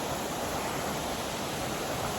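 A waterfall seen from above pours with a steady, even rush of broadband water noise, constant and fairly soft, with no voices over it.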